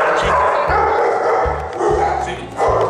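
Several dogs bark loudly and repeatedly at a dog hotel in a steady, rhythmic series of deep woofs and yips. Chatter and background noise from the kennel run beneath the barking.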